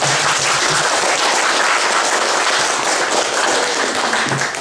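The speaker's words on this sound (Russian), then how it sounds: "Похлопаем." An audience applauding after a talk, with dense, steady clapping from many people that stays loud and even throughout.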